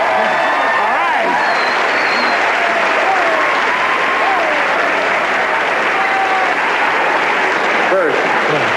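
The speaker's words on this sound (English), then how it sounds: "now a little applause" Sustained, dense audience applause from a large comedy show crowd, loud and steady throughout with faint voices and whoops mixed in.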